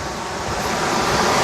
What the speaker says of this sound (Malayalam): നമ്മളിതേ വാട്ടർഫാൾസിൻ്റെ അടുത്തെത്തിട്ടോ.